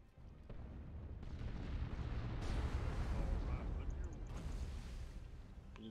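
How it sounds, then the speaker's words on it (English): Artillery strike explosions in the Warhammer 40k Dawn of War 2 video game, a sustained rumbling barrage with booming impacts swelling and fading, layered with game effects. "Fucking artillery strike."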